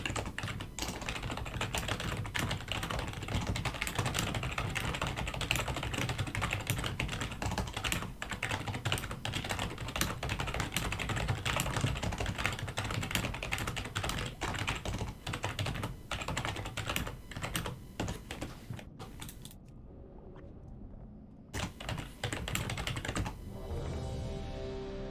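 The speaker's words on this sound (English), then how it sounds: "So much typing." Continuous rapid typing on a computer keyboard, dense clattering keystrokes that run steadily for about twenty seconds before thinning out briefly near the end, with no talking.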